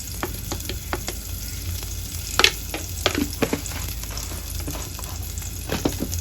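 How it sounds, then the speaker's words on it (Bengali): Onions and chillies fry in a pan with a steady close sizzle, broken by frequent sharp crackles and pops and the scrape of stirring, with no voices. "পেঁয়াজ আর মরিচ ভাজা ভাজা হতে হতেই আমি লবণ অ্যাড করে দিব।"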